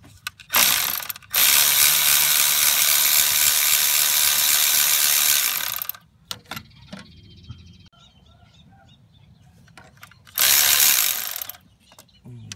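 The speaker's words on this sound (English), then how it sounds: "It's got a 13 millimeter bolt right there. And we'll loosen that bad boy out." Ratchet wrench loosening a 13 mm bolt on the camshaft sensor of a 2000 Jeep 4.0, giving long runs of rapid clicking, a few scattered clicks and a short final burst, close and loud with no talk.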